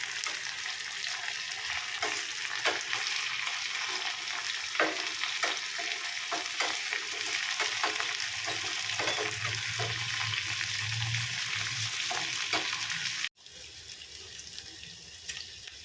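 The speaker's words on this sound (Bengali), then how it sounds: "মটরশুঁটিগুলো ফাটছে ফটফট করে, আর বাইরে আসছে।" Green peas frying in hot oil with cut green chillies, crackling and popping in scattered sharp bursts over a steady close sizzle, with stirring clatter and a brief cut near the end.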